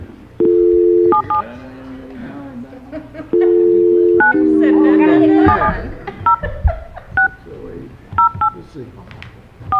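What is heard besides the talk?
telephone being dialed, DTMF tones, to call someone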